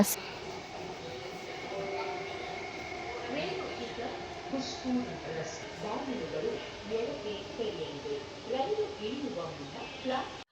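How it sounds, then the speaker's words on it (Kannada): Inside a moving Yellow Line metro train: a steady low rumble and hum of the carriage, with people talking nearby throughout. "ಮೆಟ್ರೋದಲ್ಲಿ ಫಸ್ಟ್ ಟೈಮ್ ನಾವು ಟ್ರಾವೆಲ್ ಮಾಡ್ತಾ ಇದ್ದೀವಿ"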